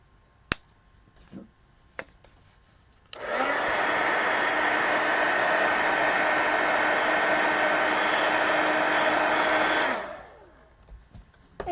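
A hair dryer runs steadily for about seven seconds to dry a watercolor marker wash on paper, starting and stopping abruptly. A few faint clicks and taps come before it.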